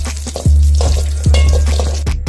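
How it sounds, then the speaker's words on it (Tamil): Cashews and raisins fry loudly in hot ghee in a pan, a continuous close sizzle broken by a few sharp scraping stirs. "முந்திரி லைட்டாக வறுத்து எடுத்து வந்த உடனே திராட்சையும் உள்ளார போட்டுடலாம் திராட்சையும் உள்ளார போட்டு நல்லா நெய்யில் வறுத்துக்கலாம்"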